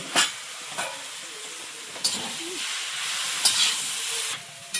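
Potatoes frying in a pan with turmeric and salt, a soft continuous sizzling hiss broken by a few sharp scraping stirs, fairly close and steady.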